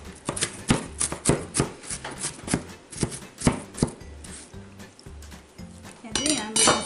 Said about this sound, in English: if any of your onion didn't get small enough, of course you can just turn it around and chop it